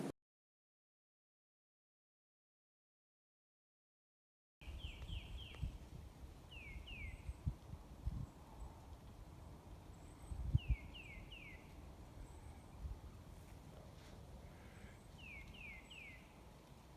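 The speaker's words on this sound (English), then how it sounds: "It's nice to hear birds in the wintertime." Small birds call in winter woods along a rough hiking trail, giving brief high chirp sequences in several spaced bursts over quiet outdoor ambience, with occasional footstep-like thumps nearby and no talking.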